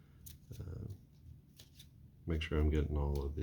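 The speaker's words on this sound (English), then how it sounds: "Shuffle one more time." Playing cards are shuffled between innings of a tabletop baseball game, a soft riffle early on followed by a louder burst of fluttering card noise near the end, with someone talking over it.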